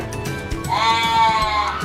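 Goats bleating close by at feeding time on a farm, a drawn-out wavering cry that swells in the middle of the clip over a busy background of shuffling and other animal noise.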